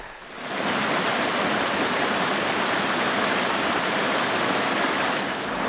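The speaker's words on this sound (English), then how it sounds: "This is your typical plunging lots and lots of waterfalls." A waterfall chute on the Caerfanell River plunges into a pool, a loud, steady broadband roar of rushing water that fills the scene close by without pause.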